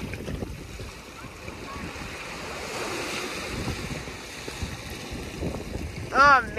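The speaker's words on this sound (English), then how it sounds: "Don't you just stay back, you waves." Ocean waves wash and break against rocks at the beach at Avon-by-the-Sea on a nice day, a continuous rushing surf roar with gusty wind noise buffeting the microphone.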